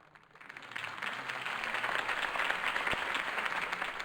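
Crowd applause following a campaign speech by Harvey Dent in a Batman video game, a dense wash of many hands clapping that swells after a quiet start and holds steady and loud throughout.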